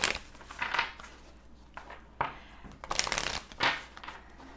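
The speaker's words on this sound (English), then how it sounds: "I'm going to kind of just shuffle the cards for just a minute" A deck of cards is shuffled in several quick riffling bursts, close and crisp, separated by short pauses in an otherwise quiet room.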